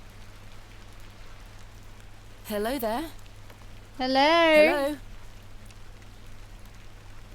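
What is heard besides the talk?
rain falling in video game The Excavation of Hob's Barrow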